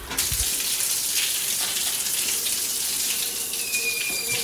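Water gushes steadily from a push-button faucet at a campground in an Arkansas state park, a continuous close splashing stream with a faint high whine appearing near the end.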